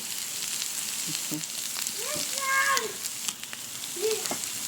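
Steady sizzling of pork frying on a hot grill pan, a continuous crackling hiss with a few brief clinks and faint background voices.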